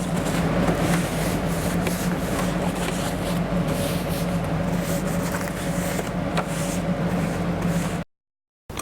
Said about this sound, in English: just give it a little spray around any of the points that have been used